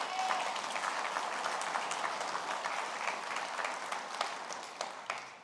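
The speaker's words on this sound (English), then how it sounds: "Give them a round of applause, please." A room of people gives a sustained round of applause for leadership-program graduates in Brownsville, Texas, even and moderately distant, with a few sharper claps standing out near the end.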